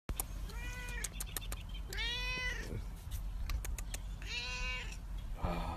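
Several clear, drawn-out cat meows, up close and loud, arriving in separate bursts with pauses between them, with faint background noise and some brief clicks.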